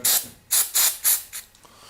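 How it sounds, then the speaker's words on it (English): Several short bursts of aerosol cleaner sprayed inside an Xbox 360 controller while restoring it from battery-acid corrosion, about five close hissing puffs in quick succession, the last ones shorter and fainter. "I want to spray some more cleaner inside here one more time."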